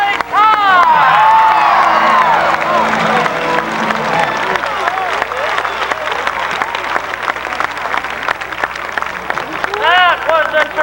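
A Sea World crowd in San Diego, 1989, breaks into loud applause and whoops that swell early and then settle into steady clapping, with scattered shouts and a voice heard over the noise.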